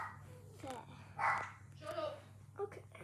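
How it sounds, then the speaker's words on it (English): A pet dog barks a few times indoors, with short yips and barks scattered between a person's speech. The barks sound fairly faint and somewhat distant. "that's just my dog barking, Lexi."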